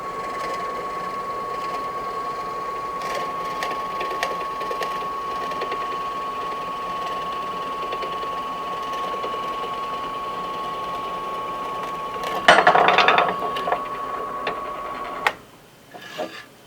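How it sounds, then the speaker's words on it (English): A Vevor 8-inch benchtop drill press motor runs with a quiet, steady hum held for most of the stretch, then a short louder burst of noise before it winds down near the end. "Okay, we flip up on our switch. Boy, it's a nice quiet motor."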